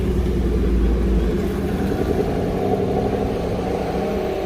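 A green-hooded Aston Martin GT8 engine rumbles steadily at close range, a low continuous idle drone with a slightly heavier burst at the start.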